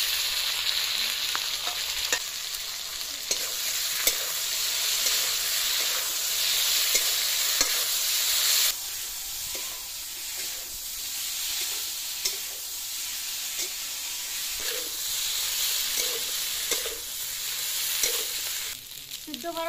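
A paste of ginger, cumin and dried chili frying in a pan, a continuous bright sizzle with occasional stirring scrapes, loud for the first half and then settling to a softer crackle.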